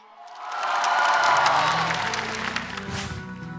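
Studio audience applauding and cheering to welcome the first contestant at a Vietnam Idol 2015 studio round, a broad swell of clapping that builds and then eases off, with some whoops near the end.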